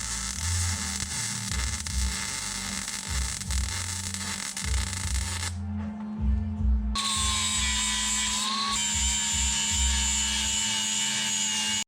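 Steel plates being ground and welded onto a BMW E36 chassis, a harsh continuous rasp and crackle that fills the whole stretch, cutting out briefly then resuming with a higher whine.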